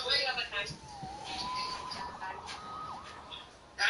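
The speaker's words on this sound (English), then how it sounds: "Saved by the siren." A wailing emergency siren in a film scene rises and falls at a moderate distance, drifting through busy background ambience without speech over it.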